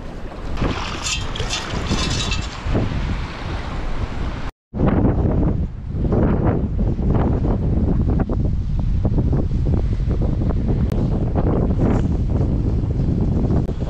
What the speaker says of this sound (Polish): Wiatr, wiatr wieje.